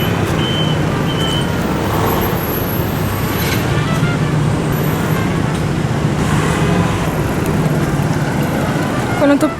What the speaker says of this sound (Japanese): 車通りやばいんだけど